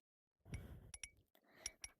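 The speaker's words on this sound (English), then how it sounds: "I'm breaking the glass." Glass shatters in a video game, a quick cluster of sharp clinks and tinkling shards in several close bursts, light and crisp with nothing else underneath.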